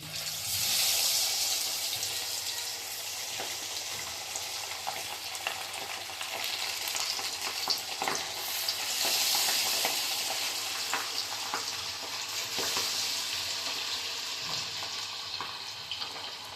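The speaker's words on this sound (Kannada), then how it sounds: "ಎಣ್ಣೆ ಈಗ ಕಾದಿದೆ, ಅಂದ್ರೆ ಜಾಸ್ತಿ ಕಾಯಬಾರ್ದು, ಸ್ವಲ್ಪ ಫ್ಲೇಮ್ ಕಡಿಮೆ ಮಾಡ್ಕೊಂಡು ನಾನು ಇವಾಗ ಹಾಕ್ತಾ ಇದ್ದೀನಿ ಫಿಶ್" Tuna fish frying in hot oil over a lowered flame, a steady bright sizzle and crackle running without pause, close and fairly loud, with occasional faint clinks.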